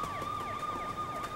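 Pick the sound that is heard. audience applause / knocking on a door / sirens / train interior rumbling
sirens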